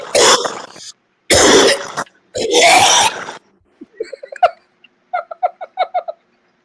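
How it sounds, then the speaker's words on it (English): Several harsh coughs and throat-clearing bursts up close, followed by a quieter run of short raspy, chirpy sounds. "The first coughing clip we have"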